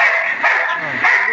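A fast dog gives a quick pair of sharp, close yipping barks with whimpery tone in a short burst.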